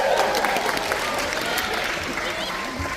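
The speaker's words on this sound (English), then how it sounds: "So give yourselves a round of applause if you're basically a legend." At a film premiere in London's Leicester Square, the audience breaks into a round of applause, moderately loud continuous clapping with cheering voices and chatter woven through it.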